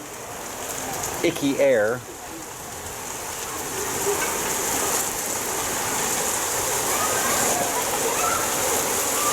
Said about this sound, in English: It is actively hailing.